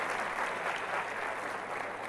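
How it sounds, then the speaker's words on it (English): An audience applauds steadily at a realme X2 Pro launch event in India, a dense, even patter of many hands clapping at moderate distance for about two seconds, with no voices over it. "I want to have a big round of applause to the people who are sitting over here."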